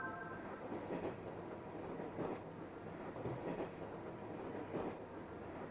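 Train ambience in a video game: a steady rumbling rail roll with rhythmic clickety-clack beats roughly every second, fairly quiet and continuous, with no speech.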